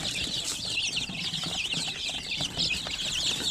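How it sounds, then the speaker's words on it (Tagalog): A crowd of many chicks on a poultry farm keeps up a constant, overlapping high-pitched peeping, close and busy, with occasional soft rustling and wing flutters beneath. "Ang dami ng ating mga sisiw rito."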